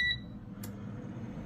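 A Tower T17076 Xpress Pro Combo 10-in-1 air fryer starts up with a short, high, close electronic beep, then settles into a low, steady fan hum.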